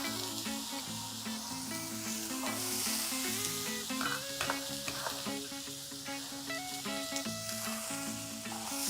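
Onions sizzling in grapeseed oil in a carbon steel frying pan, a constant close hiss with stirring, over background music with steady tones.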